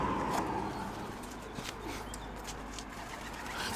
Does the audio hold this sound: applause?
no